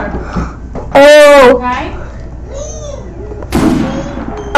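Gunfire in the Roblox game Brookhaven RP, one loud, sharp burst standing well above the surrounding voices, with a second, weaker crack near the end while a player talks.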